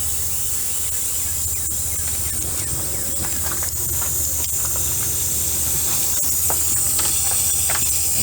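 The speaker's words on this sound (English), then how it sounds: "I got the nitrogen on, and I'm going to trickle it up to about 50 psi" Nitrogen from a regulator hisses steadily through HVAC refrigerant lines at about 50 psi, a continuous loud airy rush with faint ticks and clicks underneath and no voices.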